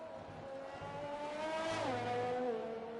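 Formula 1 car from the F1 2020 racing game on the Canada circuit, its high engine whine rising and then dropping sharply as it downshifts through the final turns, heard alone at moderate level.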